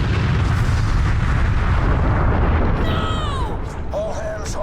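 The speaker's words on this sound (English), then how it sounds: "I think there was a big dramatic cannon fire there that I missed" Big cannon blasts in Aliens: Colonial Marines boom loudly as a sustained rumbling roar, then fade under sweeping electronic tones and chirps near the end.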